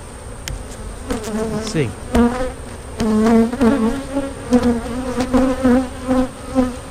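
Honey bees buzz close around an open hive, their droning tones rising and dipping as individual bees pass near, with a few handling knocks and a brief spoken word.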